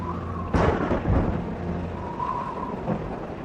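A deep crack of thunder breaks on a stormy night, then a long low rumble rolls on and fades, with a faint tonal hum running underneath.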